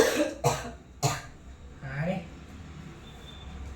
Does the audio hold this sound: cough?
yes